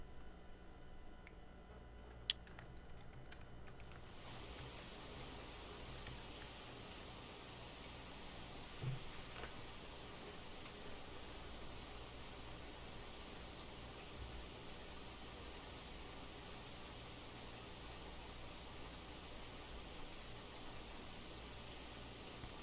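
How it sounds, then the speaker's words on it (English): Rain falls in the fishing game Russian Fishing 4 at an amber carp lake, a faint, even patter of drops that stays continuous and soft in the background, with occasional small ticks. "Do the carp not like the rain"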